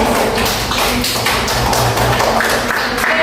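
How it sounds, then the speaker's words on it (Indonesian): Classroom audience claps after a group presentation, a dense burst of many hands tapping together continuously for a few seconds, fairly loud and close with faint voices mixed in. "Beri aplaus dulu guys"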